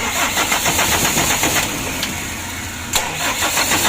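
An engine that had been submerged in water cranks with a rhythmic electric starter churn, then catches and settles into a steady mid-pitched idle, close by.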